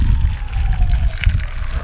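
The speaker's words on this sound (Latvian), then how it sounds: "Un aplējam ar verdošu ūdeni." Boiling water is poured over cut venison pieces, producing a close, steady splashing trickle that runs continuously for the whole short moment.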